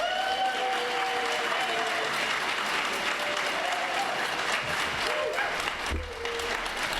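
An audience at an evening marine-science lecture applauding to welcome the speaker, a steady, full wash of clapping from many hands that holds for several seconds and dips briefly near the end.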